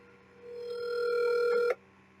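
A telephone ring tone plays over speakerphone as a call is placed, one steady sustained ring swelling for about a second before cutting off abruptly, with no talking over it.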